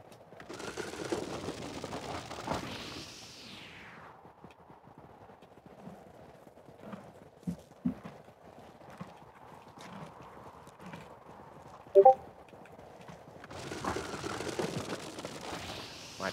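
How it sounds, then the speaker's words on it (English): Horse hooves clop unevenly on a hard floor at moderate distance in a video game, with a louder rushing whoosh at the start and end. "I hear the scraping of horses on the floor."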